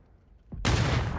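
Gunfire in the video game PUBG: a soft thump followed by a sudden loud burst of shots that rings on to the end, heard during a tournament broadcast.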